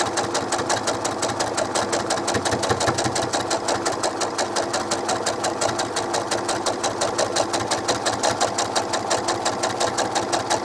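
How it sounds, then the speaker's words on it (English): Sewing machine stitching doll clothes, a fast, steady mechanical chatter of needle strokes in an even rhythm, running continuously and close up with no pauses. "we're going to sew 1/4 inch from our edge that we just did, from our fold we just made."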